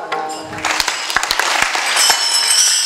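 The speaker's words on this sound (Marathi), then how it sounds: "2 वेळेस टाळ्या वाजतील" Sharp hand claps ring out in a quick series at a kirtan gathering, over a murmuring background, crisp and close.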